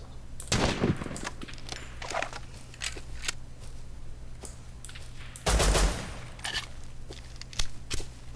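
Gunfire in a Rust PvP fight, with two sharp loud shot bursts around the start and middle, separated by quieter scattered clicks and movement sounds.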